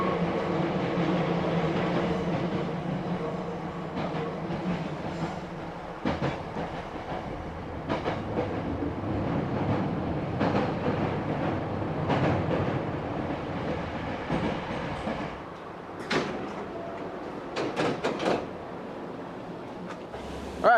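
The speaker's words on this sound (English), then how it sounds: "My train just came from this tunnel and stopped here." A train rumbles steadily near a tunnel by a small mountain station in Japan, with a rhythmic clatter of wheels that eases off toward the end.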